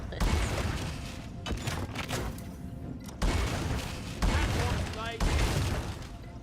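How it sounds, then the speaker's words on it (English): Guns fired into the air during Fourth of July celebrations, heard as loud, repeated booming shots and bursts of gunfire in quick succession, with a busy, noisy outdoor backdrop. "they shoot their guns in the air"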